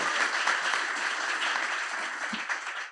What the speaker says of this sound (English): Let's get a round of applause to kick this off.